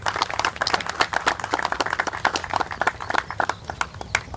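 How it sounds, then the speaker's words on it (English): Brisk, uneven clapping from a crowd, sharp hand claps rattling steadily throughout the clip at moderate volume. "how about a round of applause for the Couteau family?"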